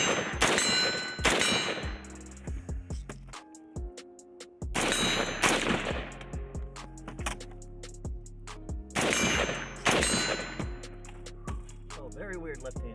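A police trade-in AR-15 rifle is fired left-handed outdoors, with sharp loud shots in quick bursts separated by pauses, each followed by metallic ringing.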